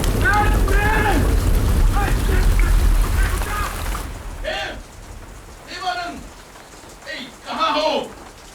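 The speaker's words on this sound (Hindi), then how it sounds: "बारिश हो रही है" Rain falls steadily outdoors near a coffee plantation, a dense hiss that is loud at first and then softer, with voices talking over it.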